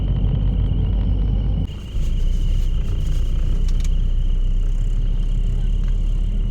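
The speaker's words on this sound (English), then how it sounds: "The car was shaking and noisy." Long-distance bus on a 350 km ride from Saigon to Ca Mau, shaking and noisy: a steady loud engine and road rumble fills the cabin throughout, with a brief dip in the middle and rattling overhead.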